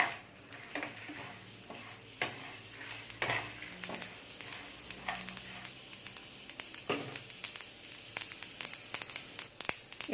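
Ingredients for kootu dry-roasting in a pan, with scraping stirs, soft crackles and crinkly rustles coming in irregular bursts at close range.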